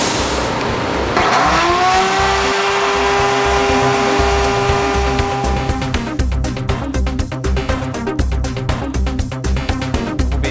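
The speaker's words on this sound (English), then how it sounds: "Next, we'll be using the screw pocket machine here to do these pockets to actually join the two" A pocket hole screw machine drills into wooden picture-frame boards in a woodshop, giving a loud, steady motor whine with a falling pitch, then a rapid rattling, chattering cut through the boards.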